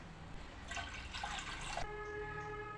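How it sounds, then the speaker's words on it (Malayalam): Water poured into a clay pot for vegetable oats porridge, a close rushing splash of liquid lasting about a second, then fading to a quiet background with a faint tonal hum. "ഇതിലേക്ക് നമുക്കൊരു മൂന്ന് ഗ്ലാസ് വെള്ളം ചേർത്ത് കൊടുക്കാം"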